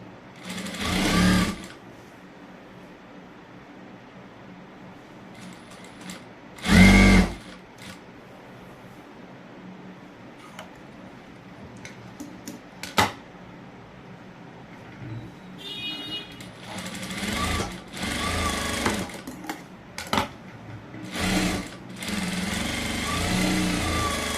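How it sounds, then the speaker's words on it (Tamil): A sewing machine stitches a blouse shoulder seam in short bursts, whirring runs that start and stop between pauses, with a few louder thumps and handling noises in a quiet room. "திருப்பினதும் ஷோல்டரை நீங்கள் சேர்த்து அடிச்சுக்கலாம்."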